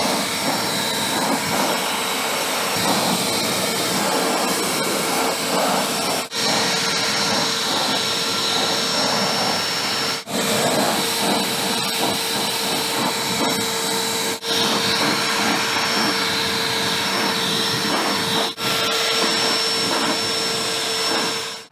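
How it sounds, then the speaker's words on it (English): A blower roars steadily at portable solar panels anchored outdoors, a loud continuous rush of air with a faint whine that dips briefly every few seconds, with no talking. "Let's test to see what happens when we have the blower going and the solar panels anchored."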